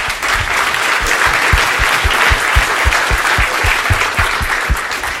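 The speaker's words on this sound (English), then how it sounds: "I would like to have a final applause for all 3 speakers" Conference audience gives a sustained round of applause for three speakers: a loud, even wash of clapping throughout, with some heavier claps standing out near the front.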